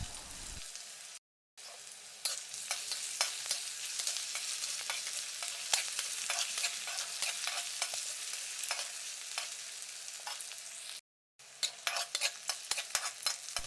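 Chopped onions and ginger-garlic paste fry in hot oil for an Assamese fish curry, giving a steady close sizzle with scattered stirring clicks and two brief silent breaks.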